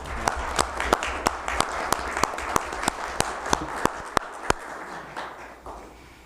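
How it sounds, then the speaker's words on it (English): People at a city council meeting give a speaker another round of applause, heard as a soft bed of clapping with a string of loud, evenly spaced sharp claps standing out before fading. "we're going to give him another round of applause"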